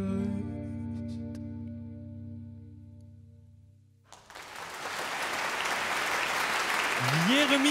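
A live song fades out, then the orchestra and audience burst into loud, sustained applause that swells over several seconds, with a rising whistle near the end.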